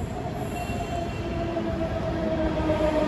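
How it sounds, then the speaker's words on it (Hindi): A Delhi Metro train pulls into a station with a continuous loud roar of wheels and motors. A high metallic squeal runs through it, and the sound builds slightly as the train nears. No one speaks. "आ गई मेट्रो"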